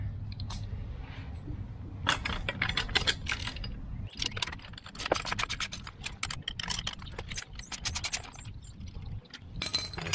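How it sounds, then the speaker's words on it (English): A ratchet wrench turning a 9/16 bolt on a trailer A-frame jack mount, rapid buzzing clicks in repeated bursts, close and loud, with metallic clinks between strokes. "Got the ratchet."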